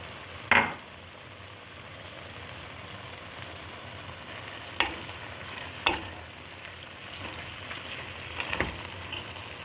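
Garlic, black pepper and mint sizzle steadily in a pan for a sheep's head soup, a constant soft frying hiss broken by a few sharp clicks of a spoon pressing and scraping.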